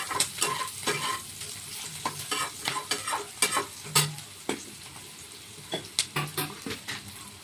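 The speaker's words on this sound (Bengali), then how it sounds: "পেঁয়াজ আমি খুব বেশি ভাজবো না, মোটামুটি হাফ ভাজবো।" Onions half-frying in oil with a little salt, a close, lively sizzle broken by many quick scrapes and taps of a spatula stirring the pan.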